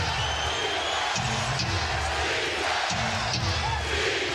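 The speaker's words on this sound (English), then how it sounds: "Getting the crowd into it." A crowd of nearly 20,000 fills Oracle Arena during a Warriors–Grizzlies NBA game with a steady roar, while basketball bounces thump rhythmically beneath the noise.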